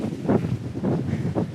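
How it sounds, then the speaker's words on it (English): Wind in southern Florida buffets the microphone outdoors in three low, rumbling gusts, fairly loud and unbroken by speech. "It's a little windy here in southern Florida today"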